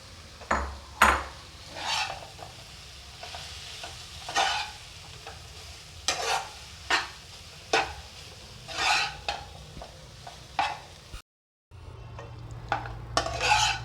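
Maggi noodles tossed with fried masala in a pan, a spatula scraping and clanking against the metal in repeated strokes over a steady sizzle, with a short drop to silence near the end before the frying resumes.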